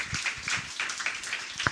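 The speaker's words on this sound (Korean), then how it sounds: "강인석 주무관님께 다시 한번 박수 부탁드립니다" Applause for a city official at a youth forum: a brief, moderate patter of audience clapping, evenly spread and continuous without voices over it.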